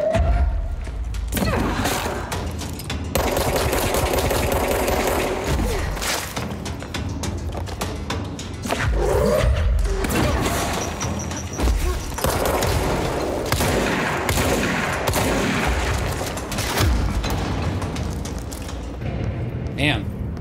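Enemy grenade launcher fire during a PC playthrough of Control, in the Research Department, with dense thumps and booms layered in near-continuous combat noise across the whole stretch, loud and sustained, with a voice talking over it.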